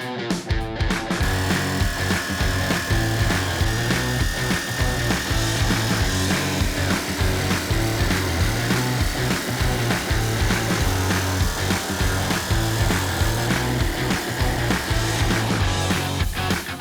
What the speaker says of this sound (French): Pour vous simplifier la découpe à la scie sauteuse